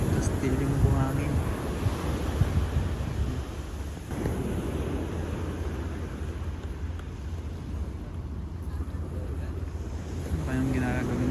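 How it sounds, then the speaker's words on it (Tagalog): Strong surf rolling onto a beach in Macau, a steady broadband wash of crashing waves with wind buffeting the microphone throughout, loud and continuous, with brief voices near the start and end. "ang lalakas ng alon"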